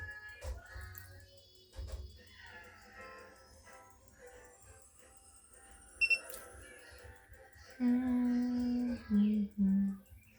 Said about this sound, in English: It has beeped every single time.